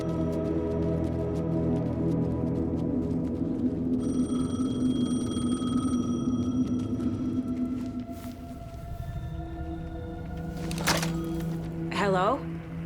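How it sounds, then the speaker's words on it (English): A payphone rings in the video game Alan Wake 2: steady electronic ringing tones over a droning, layered game ambience, with a sharp burst of noise near the end. "The payphone was ringing."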